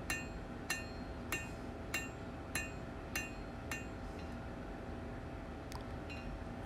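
Hand forging a small blade: a hammer strikes hot steel in a regular rhythm of sharp metallic blows, about once every 0.6 seconds, fading toward the end, over a steady background hum.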